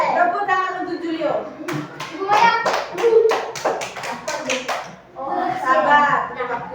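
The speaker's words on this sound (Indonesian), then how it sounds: "Tepuk tangan untuk Julio." Children in a sixth-grade primary school classroom clap their hands in a quick rhythmic burst of sharp claps in the middle, with children's and a teacher's voices talking before and after.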